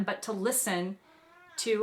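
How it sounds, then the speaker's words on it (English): A pet cat meows close by in two drawn-out calls with a quiet gap between them, and a person talks over and around the meows. "that's my cat"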